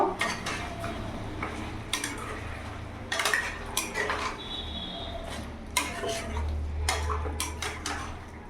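A spoon clinks and scrapes against a pot while mixing spices, green chilli paste and ginger paste over a medium gas flame, with sharp repeated metallic taps and scrapes over a low steady kitchen hum.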